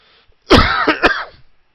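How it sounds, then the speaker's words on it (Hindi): A single close, loud cough with a throat-clearing rasp during an accounting class on bonus shares, then quiet. "बहुत ज्यादा खांसी हो रही है आज तो।"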